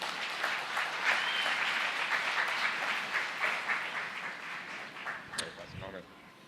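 Audience applause fills the room as a speaker is welcomed to the platform at a church gathering, steady dense clapping that continues throughout and thins slightly near the end, with a few voices mixed in.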